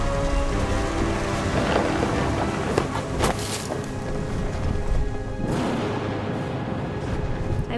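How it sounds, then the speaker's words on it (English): A video game thunderstorm in What Remains of Edith Finch: steady heavy rain pours throughout, with several loud thunder cracks and rumbles that swell and fade, close and powerful, with no voices. "The thunder sounded much too close and full of angry power"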